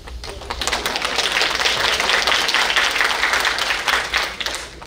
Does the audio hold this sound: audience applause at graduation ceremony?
yes